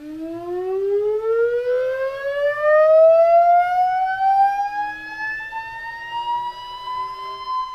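A Tesla turbine generator accelerates under electrical load, a clean high whine climbing steadily in pitch throughout, heard alone and fairly loud.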